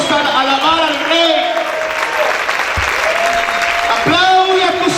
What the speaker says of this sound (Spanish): Vamos a aplaudir, vamos a alabar al Rey.